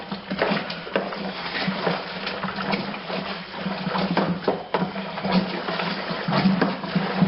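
Beer kit mix is stirred through water in a brewing vessel, a continuous close sloshing and swishing with faint scraping, steady and fairly loud with no talking.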